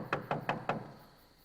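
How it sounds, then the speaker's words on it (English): Four evenly spaced raps land on the outer entrance door of a house, fairly soft and close, each one dying away quickly before the next. "Peter knocked at the outer entrance"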